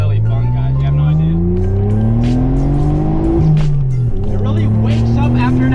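A 1997 Mitsubishi 3000GT VR4 accelerates hard, its engine note climbing steadily through the rev range with a brief dip at a gear change before pulling up again, loud and close throughout.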